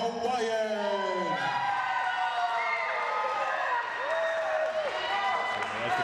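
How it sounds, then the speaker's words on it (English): A wrestling crowd cheers and claps for the challenger Kekoa, the Flying Hawaiian, in a continuous loud roar with whoops, and an announcer's voice rises over it. "There's the crowd support."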